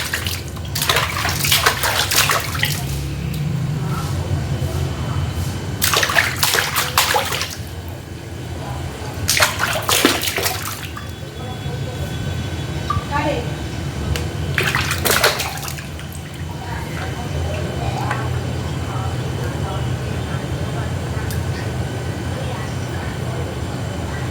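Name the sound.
water splashing as father bathes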